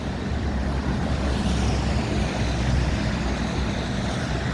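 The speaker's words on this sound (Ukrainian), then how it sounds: "Ось такий от тракторець їде до свого власника." An Orion RF 244 mini tractor driving, a steady low engine drone with road rumble, loud and unbroken throughout.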